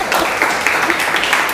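Classroom applause for a student, a short burst of steady clapping from a group of children, fairly loud and close, lasting just over a second.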